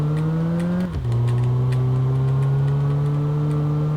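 A car engine revs steadily in a driving game, with a brief dip around a gear change before the pitch climbs again in a smooth, loud, close drone.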